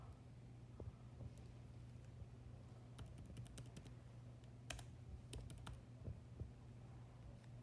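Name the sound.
typing on a computer keyboard into a serial console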